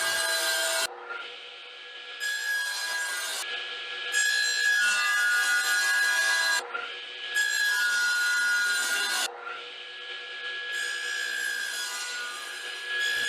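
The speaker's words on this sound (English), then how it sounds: "I cleaned off my radio arm saw and used it to cut the 2x6 length for the seat and clamp pieces." A radial arm saw cuts 2x6 lumber with a loud, steady motor whine, running in several long cutting passes separated by short dips as the blade moves through the wood.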